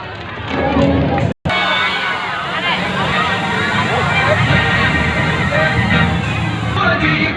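A circus audience applauds loudly to welcome circus artist Ngọc Nguyên. The applause is a dense, continuous roar with crowd voices mixed in and one brief cut partway through.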